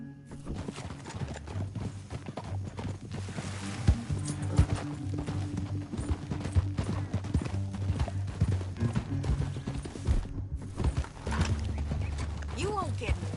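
In a western video game, horse hooves clip-clop at a steady trot across the ground, with a short whinny near the end. Voices talk over the hoofbeats throughout.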